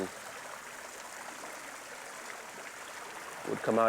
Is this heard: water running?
yes